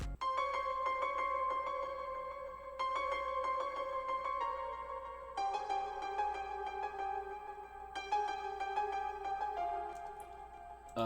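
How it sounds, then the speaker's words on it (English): An accent piano preset from the Nexus plugin plays a sparse melody of sustained, bright chords, each held for a few seconds before the next, ringing cleanly and alone at moderate volume. "And next we got this, it's another piano from Nexus."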